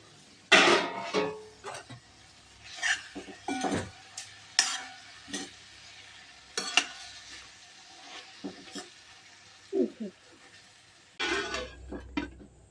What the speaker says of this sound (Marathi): गूळ टाकून असं छान फिरवून घ्यायचं।